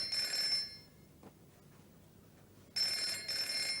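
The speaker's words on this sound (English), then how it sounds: "Phone." An old telephone bell rings in two short bursts separated by a quiet gap, moderately loud in a studio setting.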